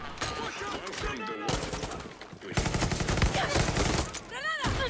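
SMG fire in Far Cry 6, rapid bursts of gunfire cracking in quick succession with game effects and chatter layered over it, a voice talking through parts of the clip.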